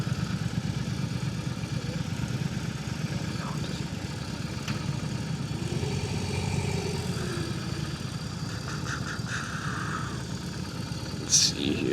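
Several old V-twin cruiser motorcycles, including a CVO, idle together outdoors at a church ride in Bismarck, a steady low rumble throughout with faint passing sounds and a brief sharp noise near the end.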